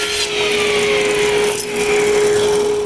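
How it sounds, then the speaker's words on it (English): Wooden false fronts for the bottom drawers of a router cabinet being cut with a power saw, a steady close whine with a constant tone running the whole time and a brief dip midway. "I cut the false fronts for the bottom drawers"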